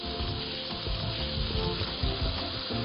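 Ingredients fry in a pan over high heat while a utensil stirs them, giving a dense, continuous sizzle with scraping and rubbing, close and loud, with no voice.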